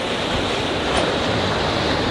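Waves wash steadily onto a beach below the Cape Arago cliffs as a broad, continuous roar of surf and wind, distant and even, with no talking.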